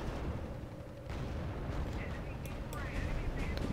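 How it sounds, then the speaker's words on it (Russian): Artillery guns booming in the WWII strategy game R.U.S.E. on a Tunisia battlefield, a dense rumbling barrage with sharp distant reports and crackles layered through the whole stretch, fairly loud and continuous. "пушки бьют очень довольно-таки далеко"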